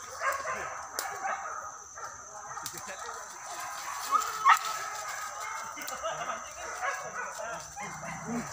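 Hunting dogs bark and yip in scattered bursts during a wild boar hunt in the forest at Jaruai, Solok, some distance off, under a steady insect drone, with people talking now and then.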